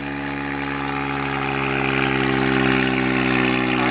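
A tractor engine idles steadily with a low, even mechanical hum and drone that holds for several seconds, close by, with no talking.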